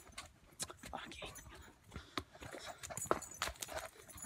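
Hooves of a 21-year-old Irish sport horse clip-clop at a walk on a rainy day at a hunter jumper barn, a string of soft, close, irregular steps with quiet talk in the background.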